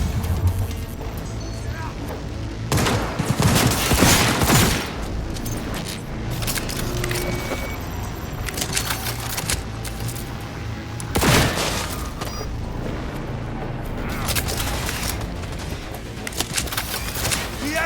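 Intense gunfire from a Cyberpunk 2077 firefight rattles in dense bursts, with loud impacts and crashes surging around the 3 to 5 second and 11 second marks over constant game noise and occasional voices.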